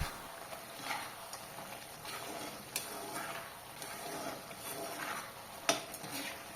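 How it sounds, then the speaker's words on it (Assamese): Assamese-style duck curry cooked without oil is stirred in a pot after fresh coriander goes in, with quiet scraping and a few light metallic clinks over a soft simmer. "কেঁচা ধনিয়াকৈ আমাৰ কাটি পুনৰ মাংসখিনি লৰাই লৈছোঁ"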